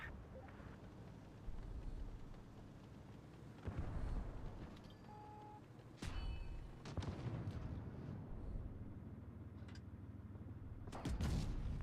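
Tank main gun shots and hits in a tank battle video game, a few heavy booms spaced across the stretch with a big blast near the middle and another near the end, over a constant low engine rumble, with no talking.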